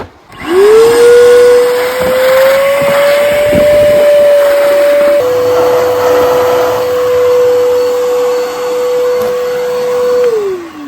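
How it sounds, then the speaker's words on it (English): An old, cheap shop vac used as a wet vac with its filter removed sucks water out of a deep hole, giving a loud steady whine that shifts pitch briefly midway and winds down at the end. "We have an old shop vac here. This is an old cheapy shop vac."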